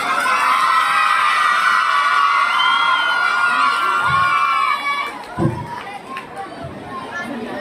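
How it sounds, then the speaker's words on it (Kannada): Schoolchildren at an annual day celebration in Kalaburagi clap and cheer loudly together, a dense roaring crowd of young voices and applause that drops off after a few seconds into scattered noise and thumps. "ಜೋರ ಚಪ್ಪಾಳೆ ಬರಲಿ ಮಕ್ಕಳಿಂದ."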